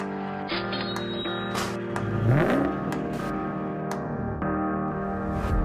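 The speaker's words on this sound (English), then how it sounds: "Wait for the clip of the Ducati Scrambler." A Ducati Scrambler motorcycle engine idles nearby with a steady, throbbing tone, then revs sharply once to a higher pitch before settling back to idle.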